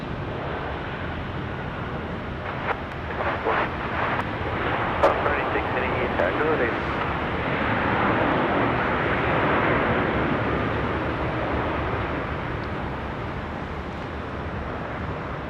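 A Jetstar airliner on the Melbourne run arriving at foggy Sydney Airport at night, a steady broadband engine roar that swells gradually, heard at a distance under a voice talking.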